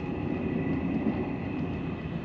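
Saudi Arabian first-class night train crossing the desert, heard as a steady rolling rumble with a faint tonal whine, continuous and even throughout.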